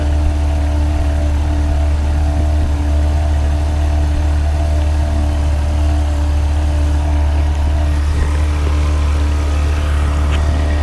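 A boat motor drones steadily on the water, a low constant hum with a faint whine on top, unbroken for the whole stretch and no voices.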